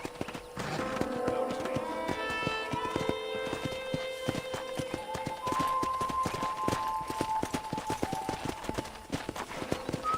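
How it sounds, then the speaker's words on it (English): Horse hooves clip-clop in a steady, rapid rhythm in the video game Red Dead Redemption, close and distinct under a bed of game music, with brief voices in between. "I picked out a fine horse for you."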